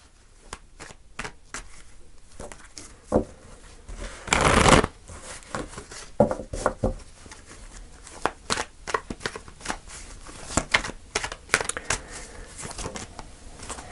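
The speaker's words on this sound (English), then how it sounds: "I'm going to pull five cards, Virgo." Tarot cards being shuffled and pulled by hand, close and crisp, with a steady run of riffling flicks and snaps, one longer, louder riffle burst, and scattered card slaps between them.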